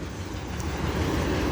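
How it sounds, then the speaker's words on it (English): A cargo train rumbles past nearby, a steady low, continuous roar of rolling wagons with faint clatter, holding level throughout with no voices. "I know it's a cargo train"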